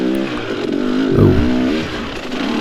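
A motocross dirt bike engine revs under clutch control during a cross-country race at Moonshine Holler, Cadiz, Kentucky, the pitch climbing to a loud peak mid-clip and then settling, close to the rider, with no talk.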